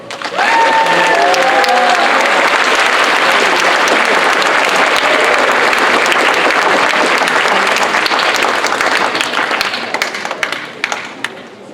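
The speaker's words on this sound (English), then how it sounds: "give Bucky a big round of applause" A roomful of people at a university freshman orientation applauds loudly and steadily for about ten seconds before the clapping thins out and fades.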